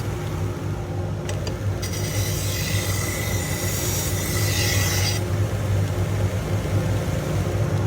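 Global kitchen knife honed against the felt belt of an AMK-75 1x30 belt grinder, a steady close rasping hiss that swells between about one and five seconds over a constant low motor drone.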